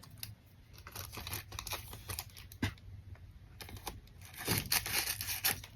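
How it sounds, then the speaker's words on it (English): Sticky tape torn and handled for a craft project using old thrifted photo paper, with a close, crackly run of short rips and crinkles that come in uneven bursts and grow louder toward the end, with no voices. "just a little bit of sticky tape, trim the edges"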